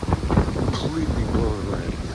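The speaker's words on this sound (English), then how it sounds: "is this wind supposed to be like this?" Strong wind buffets a Haven tent fitted with custom windbreaker walls, making a continuous, close, rushing roar with flapping gusts throughout.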